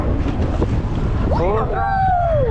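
A boat engine runs at full throttle off Huntington Beach during an airshow, a loud continuous rumble mixed with wind noise, while a rising and falling high whine from an aircraft sweeps past overhead in the second half.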